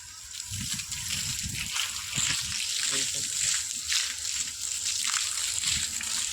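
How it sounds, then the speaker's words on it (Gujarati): Water sprayed onto freshly plastered walls, a close watery splashing and trickling with uneven sloshing surges throughout the clip. "પાણી છોડવાનું કામ ચાલુ છે."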